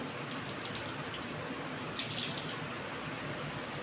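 Water is poured into a kadai over jaggery for poli, a steady rushing, splashing flow heard up close without a break.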